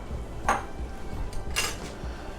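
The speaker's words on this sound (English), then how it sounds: "We're going to go ahead and stir that in." A spoon scrapes and clinks against a pot while cheese is stirred into broccoli soup, with two brief metallic clinks over a low, steady kitchen background.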